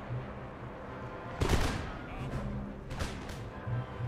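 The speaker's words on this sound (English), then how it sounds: "Artillery firing over their heads." Cannon fire from a battle in Empire: Total War, two broad booming bursts a second or so apart over a steady low battlefield rumble, fairly loud and close.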